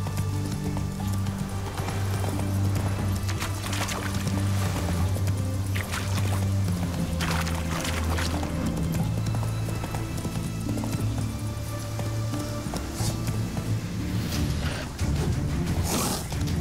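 Horse hooves clatter in a rapid, rhythmic gallop while riding in the video game The Witcher 3, loud and continuous over a low ambient bed, with a brief whinny-like tone.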